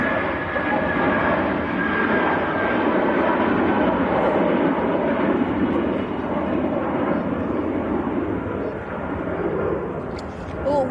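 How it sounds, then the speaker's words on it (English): A Scandinavian Airlines Airbus A320 bound for Copenhagen passes at Manchester Airport, its jet engines producing a sustained, fairly loud roar that stays steady throughout, with a faint bird call near the end. "Comes the Scandinavian 540 to Copenhagen. Airbus"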